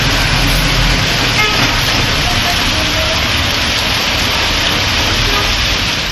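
Heavy rain pours down in Sirkazhi, Tamil Nadu, a loud, dense, unbroken hiss that stays constant throughout.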